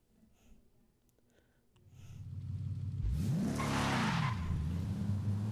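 A Ford Mustang race car in Forza Horizon 5 revs up loudly, its deep engine note rising and falling over tire skidding and squeal, after a quieter start.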